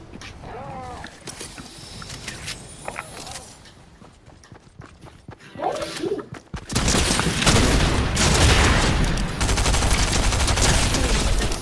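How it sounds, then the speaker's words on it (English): Gunfire in the video game Fortnite. Sporadic shots crackle early on, and a dense, loud stretch of rapid firing takes over in the second half. A voice speaks briefly during the quieter opening. "Where are they shooting from?"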